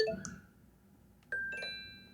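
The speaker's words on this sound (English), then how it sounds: "eShop's like a little bell." Nintendo Switch 2 eShop menu chime: a short, bright bell-like ding, then after a pause a second clear tone that rings and slowly fades, heard alone over a faint background hum.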